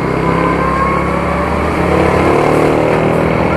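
A stock SYM 110cc motorcycle engine runs flat out at top speed, a loud, continuous buzzing drone with wind roar, steady throughout and close to the rider.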